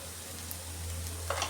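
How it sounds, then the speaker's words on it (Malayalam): Carrots and beans stir-frying for mezhukkupuratti in a pan, a steady close sizzle with a faint scrape near the end. "ഇനി ഇത് നന്നായിട്ടൊന്ന് ഫ്രൈ ആക്കി എടുക്കാമേ."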